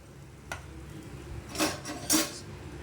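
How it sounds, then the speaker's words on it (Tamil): A tumbler of dry chana dal poured into a dry pan without oil: a light tap, then two short rattling rushes of lentils hitting the metal, close and otherwise quiet. "கடலப்பருப்பு வந்து 1 டம்ளர் போடுறேன்"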